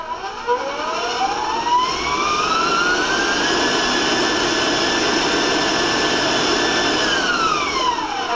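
An electric kitchen mixer whines loudly and steadily while mixing Italian meatball cookie dough, its pitch sweeping upward as the speed is raised, holding high, then dropping at the end.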